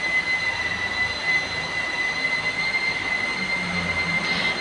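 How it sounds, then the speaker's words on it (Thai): A loud, continuous high-pitched whine with a harsh grinding roar underneath from an angle grinder at a neighboring house under construction, steady throughout and fairly close. "เสียงเจียดังขนาด แสบ หู"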